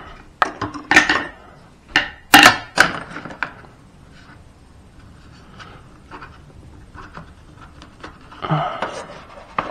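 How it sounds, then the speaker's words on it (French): A rubber windshield wiper blade being sliced into pieces, with sharp separated cutting clicks and knocks in a quick cluster early on, then quieter handling and one more clatter near the end. "Je vais couper ça comme un bout de saucisson."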